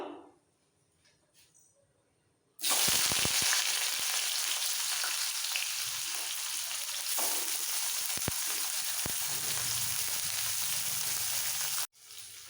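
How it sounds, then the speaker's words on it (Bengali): A medium chopped onion hits hot oil with tempering spices and erupts into loud continuous frying, the sizzle staying strong with occasional stirring clicks before it cuts off near the end. "পেঁয়াজের একটু কালার চেঞ্জ হওয়া পর্যন্ত ভেজে নেবো"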